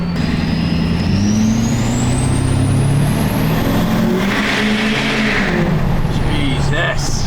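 A Ford 6.7L Powerstroke diesel truck fitted with a huge turbo revs loudly and close, with a deep engine rumble and a rising then falling turbo whistle that runs throughout.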